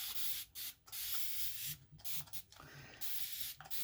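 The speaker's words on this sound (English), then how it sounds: "Just going to spray some extra water." A spray bottle mists water onto an 18x18 chalkboard surface, loud close bursts of hissing spray repeated about six times with brief gaps between pumps.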